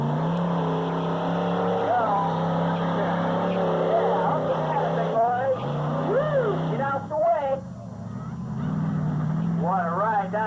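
Monster truck roaring through a run at Byron Days, its engine a loud sustained drone with rising and falling revs, heard under an announcer's voice and crowd noise.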